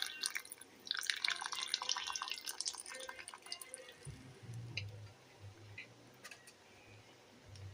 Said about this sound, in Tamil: இப்போ ஒரு ரெண்டு நிமிஷம் நல்லா கொதிக்கிட்டோம் பாருங்கள்